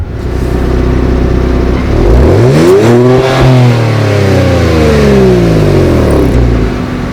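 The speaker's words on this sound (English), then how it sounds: "this thing sounds like a monster when you rev it" A 2022 Kia Stinger GT2 AWD engine revs hard, pitch climbing to a roaring peak and then sweeping back down, loud and close with no talking.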